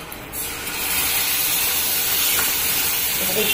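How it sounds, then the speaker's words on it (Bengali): Ground spice mix of coriander, cumin, Kashmiri chilli and a little turmeric hitting hot oil for a cauliflower curry, a loud steady sizzle that swells after a brief start and stays constant. "এবার সেই মশলাটা আমি দিয়ে দেবো"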